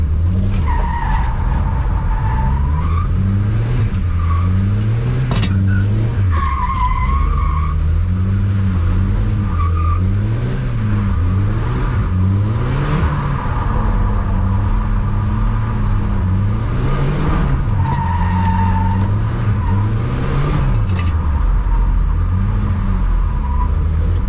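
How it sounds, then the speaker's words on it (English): A Volvo car skids on worn-out winter tires with no tread, the engine rumbling and the tires squealing in repeated long slides, loud and close, with no talking. "these tires have no fucking grip"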